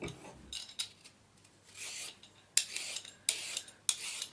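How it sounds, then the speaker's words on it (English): Carrots are peeled with a speed peeler and grated on a board, giving repeated short raspy scraping strokes in bursts with brief pauses, close and fairly quiet, with no talking. "we can now get on to peeling and grating our carrots"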